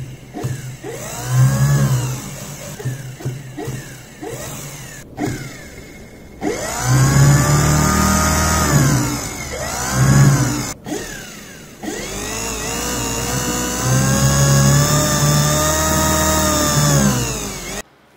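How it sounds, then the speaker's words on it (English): A DC motor powered from a 60 V e-bike charger whirs up in several runs, its pitch rising and settling, with abrupt cutoffs between starts and a long steady spin near the end. "Now let's connect a 60 volts DC e-bike charger to this motor and see how"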